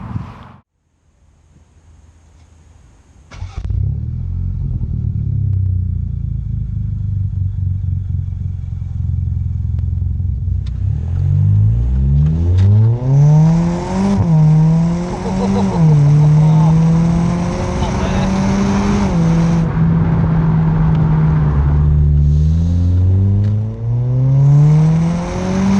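Jaguar XE fitted with a new aftermarket exhaust, driven hard under load: a quiet idle, then a loud rising engine roar with repeated revs through the gears, sustained throaty acceleration heard from inside the car.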